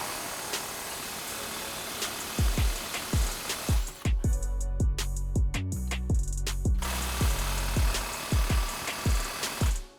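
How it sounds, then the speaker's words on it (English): Bolts being worked loose from the rear of a Ford Mustang's stock control arm during a coilover suspension install: a run of sharp mechanical tool clicks and rattles over steady workshop noise, with a dense, louder burst midway. "All right, unbolt the control arm from the back."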